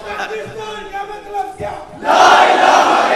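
A large crowd answers a leader's call with a loud unified religious slogan (nara), a roaring collective shout that swells after a brief spoken lead-in.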